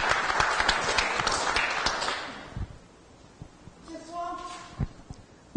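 A studio audience on a Portuguese-language TV talk program claps for the teacher and commentator, a burst of brisk applause that fades after about two seconds, followed by quieter sounds and a voice speaking.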